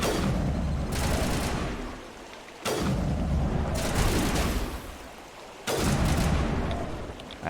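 Heavy gunfire in Mass Effect 1 arrives as three long sustained bursts of loud, wideband firing separated by short lulls, with rumbling low-end booms and no voices over it.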